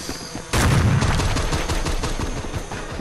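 Burst of rapid gunfire in an off-brand Fortnite-style shooter game, loud and close, starting abruptly and continuing as a dense rattling volley.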